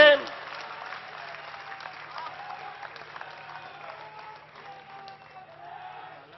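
An audience at a patriotic Hindi poetry recital applauds in honor of Maharana Pratap, a soft, distant wash of clapping that starts sharply then settles into a steady, muted patter throughout.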